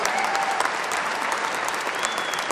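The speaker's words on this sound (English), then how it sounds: "So please give him a big round of applause." A large audience at a Maharashtra inauguration event gives a sustained round of applause, dense and steady clapping filling the whole stretch with faint crowd murmur beneath.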